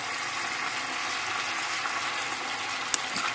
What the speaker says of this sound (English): And then we're just going to add some more stock.